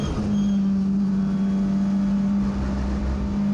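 A TCR touring race car engine holds full throttle on track at Circuit Paul Ricard, a loud, steady onboard drone with a strong constant tone that barely wavers, with no voices present.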